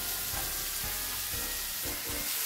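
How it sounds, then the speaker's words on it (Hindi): Onions and garlic frying in a pan for a restaurant-style paneer gravy, a dense steady sizzle with soft periodic stirring thumps, close and with no talking. "और कांदे डालना है ढेर सारे, और ये कांदे जो है पकते रहेंगे।"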